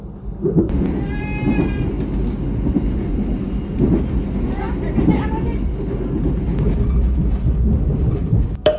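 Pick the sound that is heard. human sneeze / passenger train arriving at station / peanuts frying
passenger train arriving at station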